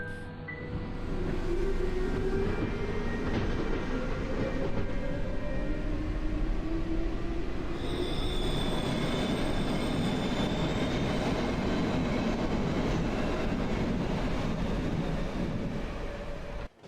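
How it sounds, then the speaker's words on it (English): A train in the horror video game Cry of Fear pulls away from a Stockholm station, a loud continuous rumble of rolling wheels and carriage noise with rising squeal tones and a steady clatter that fills the whole stretch. "he steps inside the train and it departs, finally leaving Stockholm behind"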